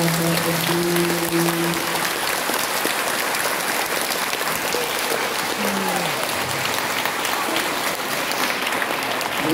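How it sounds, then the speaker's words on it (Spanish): A Catholic congregation at an Easter Sunday Mass claps loudly and continuously, a dense, crackling wash of many hands with brief voices sounding over it. "Vamos, uno, dos, tres, fuertes palmas a Jesús."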